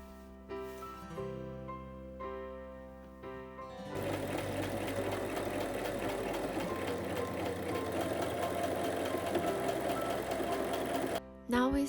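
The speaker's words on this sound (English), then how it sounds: "Then we sew the two armholes." A sewing machine stitches the armholes of a vest made from upcycled men's pants, with a steady rapid whirring run after a few slower starting stitches, close and fairly quiet.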